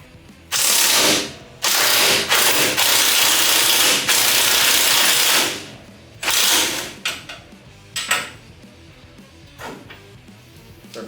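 A socket ratchet works a car suspension bolt on a Ridetech install, in several long bursts of rapid, close clicking separated by pauses, then a few shorter, scattered ratchet strokes.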